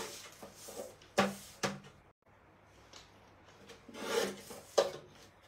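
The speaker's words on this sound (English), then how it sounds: "Grabbing out my Crafter's Companion trimmer, the small trimmer is going to be the go-to today" A Crafter's Companion small paper trimmer slices through paper in a few short, dry scraping strokes with soft knocks between them. The sound is close and fairly clear, with no talking.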